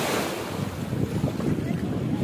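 Sea waves roll onto the beach at Naama Bay in Sharm El Sheikh, Egypt, a brief continuous wash of surf mixed with strong wind rumble on the microphone.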